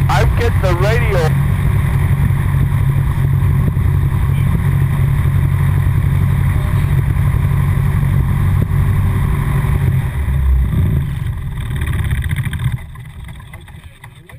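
A 7GCAA Citabria light aircraft's engine runs up to about 1,300 RPM, a loud, steady propeller drone that holds throughout and eases slightly near the end.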